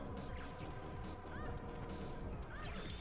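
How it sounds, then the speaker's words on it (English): Blast cannon fire in the Game Boy Advance game Gunstar Super Heroes makes a dense, continuous barrage of crashing explosions and shots with a few rising electronic zips, loud and constant throughout. "I use the blast cannon on these bastards."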